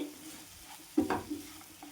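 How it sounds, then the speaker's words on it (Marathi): Tender spiny gourd (kantola) sizzles softly as it is stirred and sautéed in a pan, with a quiet steady frying hiss and a brief louder scrape of the spoon midway. "आता कटोरले घालून घेते ह्याला पण मी छान मिक्स करून घेते"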